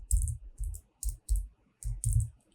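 Keys clack on a computer keyboard in short bursts while JavaScript code is typed, close and crisp with a deep thud under each stroke and brief pauses between groups.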